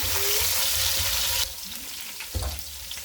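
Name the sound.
whole spices frying in oil, chicken added to fry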